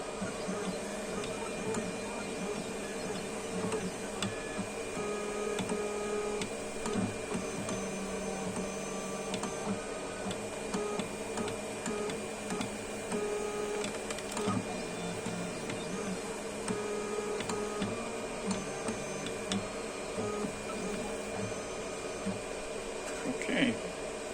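A 4 watt Endurance DPSS Nd:YAG pulsed laser mounted on a CNC machine engraves metal at slow feed, giving a steady whining, buzzing hum with faint clicks and tonal lines, continuous and fairly quiet throughout.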